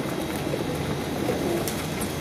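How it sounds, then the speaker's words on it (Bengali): Pigeons flocking in to eat in the morning give soft, low cooing calls amid a steady outdoor hum, moderately close, with no talking. "এই যে দেখুন সব পায়রা, এই যে সব খেতে চলে এসছে এরা।"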